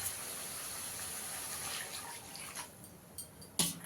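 Hot water poured into fried, oil-separated spice masala for a fesa fish curry, a steady close hiss and gush of liquid over about three and a half seconds, ending in a brief louder splash.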